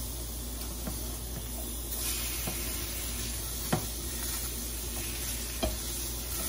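A blackened-seasoned salmon fillet frying in olive oil in a pan gives a steady close hiss and sizzle, broken by a few soft clicks and taps of a utensil and a brief flare of louder spattering.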